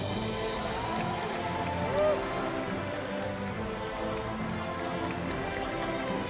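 After a StarCraft StarLeague final, an arena audience claps and cheers for the champion holding up the trophy, a steady, moderately loud roar of applause with scattered voices mixed in.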